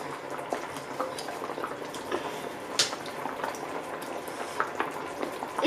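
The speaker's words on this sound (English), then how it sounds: "Waiting for it to boil" Sichuan spicy hot pot broth bubbling at full heat, a steady close simmer with scattered pops and drips, with no talking.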